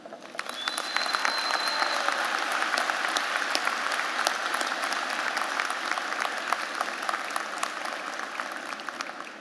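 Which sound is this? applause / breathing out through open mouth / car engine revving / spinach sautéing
applause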